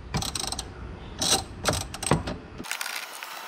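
A ratchet works on 10mm bolts while a car dashboard is taken apart on a Mitsubishi Lancer. Short bursts of clicking come in several separate runs with pauses between, heard close up, and the clip ends in a low hiss.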